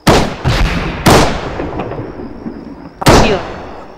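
Loud booming blasts from a grenade explosion and gunfire in the military shooter game Arma 3, several sharp bursts with rumbling tails spread across the moment, close and heavy, without talk.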